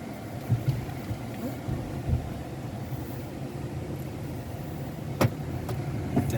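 A 2022 Kia e-Niro electric car drives along with a low, steady road and tyre rumble from inside the cabin, punctuated by a few soft knocks and clicks.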